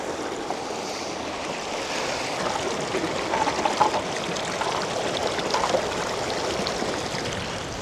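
Stream water flowing steadily through a gold sluice box in Fairplay, Colorado, a continuous close rushing and gurgling with a few louder splashy surges, no talk.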